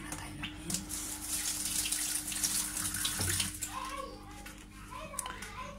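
Tap water runs steadily into a sink while hands are washed during tabbouleh preparation, with children's voices and chatter under the flow.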